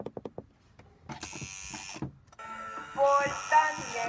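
A steady electric buzzing hum of a running tattoo machine, starting and stopping in short bursts, fairly close.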